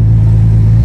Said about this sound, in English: when it's just screaming through the RPMs